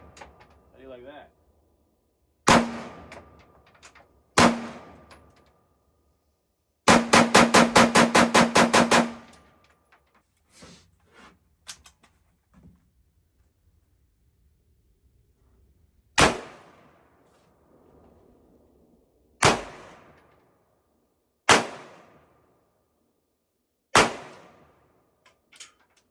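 An H&R XM177E2 rifle fires at an outdoor shooting range: single loud cracks with ringing decay, one rapid automatic burst, then more widely spaced single shots, with brief talk between them.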